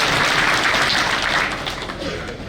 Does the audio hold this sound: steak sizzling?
no